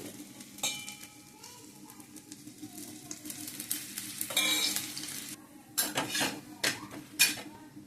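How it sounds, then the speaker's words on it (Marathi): A cucumber thalipeeth fries in oil on a hot pan with a steady close sizzle, broken by clattering utensil scrapes and knocks against the pan, louder bursts toward the end, without speech. "हे टाकून खमंग भाजून घ्यायचे आपल्याला."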